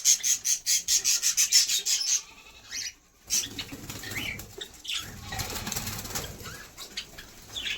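Rapid bursts of budgerigar wing flapping open the clip, a rhythmic fluttering close by, followed by softer rustling and scraping movements.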